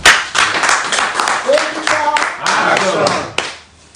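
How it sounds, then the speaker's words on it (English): A crowd at a Nigerian election campaign gathering claps in an uneven, close burst of hands with voices mixed in, swelling and dipping before breaking off abruptly near the end. "they deserve a round of applause"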